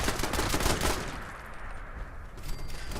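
Rapid bursts of gunfire from defense turrets in Fallout 76, a dense rattling volley that fades into a lingering rumble, then a brief renewed burst near the end.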